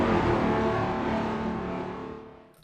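A low, tonal alien impact designed in Bitwig Studio hits at once as a dense, wide boom that rumbles and slowly fades over a couple of seconds, then cuts off with a small tail click.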